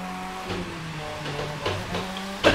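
A car drifts in the racing video game The Crew 2, driven with a steering wheel: a steady, droning engine tone with shifting pitch, ending in a brief sharp tire squeal.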